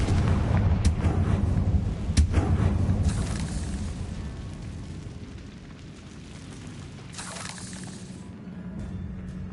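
A Confringo blasting spell exploding in the video game Hogwarts Legacy, heavy booming blasts and rumbling debris, loud at first and then fading into lingering low rumble.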